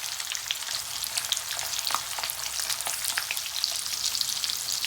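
Sausages and ground turkey fry in a pan with a steady, loud sizzle and crackle, stirred now and then, close by and with no voices.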